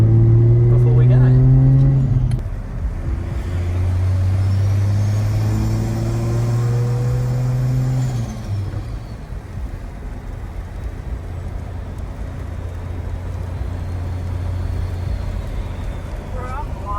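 A turbocharged car, Fiat-style FZ turbo build, idles and revs with a deep droning hum that shifts pitch between steady stretches, while people talk nearby throughout.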